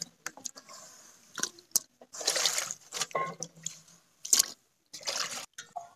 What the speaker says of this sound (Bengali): একসাথে আমি ভালো করে সিদ্ধ করে নেব।